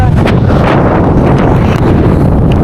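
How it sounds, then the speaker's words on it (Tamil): Strong wind roars across a mountain viewpoint in Theni district, a loud, continuous gusting rumble buffeting the microphone throughout, with no speech. "காற்று பயங்கரமாக அடிக்குதுங்க."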